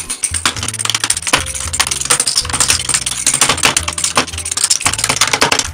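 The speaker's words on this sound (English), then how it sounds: "First thing you need to do is take off all the keycaps." Keycaps being pried off a mechanical keyboard, a rapid busy stream of sharp plastic clicks and clacks at close range, sped up, with no voices.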